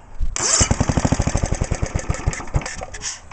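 A Tecumseh HH100 small engine fires and runs just after a stator swap, giving a rapid, loud pulsing put-put close up that holds for about three seconds with no talk.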